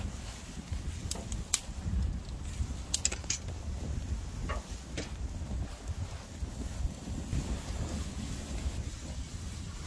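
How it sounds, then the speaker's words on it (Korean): A bellows blowing strong gusts of air onto an outdoor wood fire in a mountain yard, a steady low rushing roar with sharp crackles and snaps from the burning wood. "불무는 바람이 아주 셉니다"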